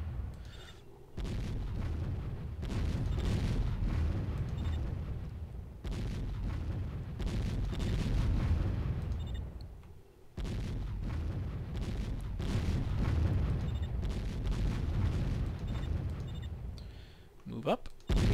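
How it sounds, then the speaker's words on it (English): Sustained gunfire and booming explosions from the real-time strategy game Warzone 2100 as units blast defensive walls during a frontal assault, dense and continuous with brief lulls and a player talking over it. "Now we're shooting the walls first"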